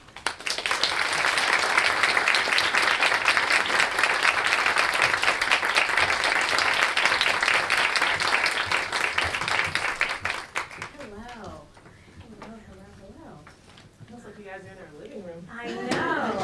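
Loud, sustained audience applause fills the room for about ten seconds as speakers are welcomed to the stage at an artist talk honoring Amy Sherald, then fades as a speaker begins talking.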